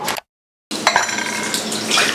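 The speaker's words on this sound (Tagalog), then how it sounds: "Hugas lang tayo ng plato para kunwari mabait tayo." Glass dishes and plates are washed under running water at a sink in a Bicol province home, with a steady splash of the tap, clinks of glassware, and a brief silent gap near the start.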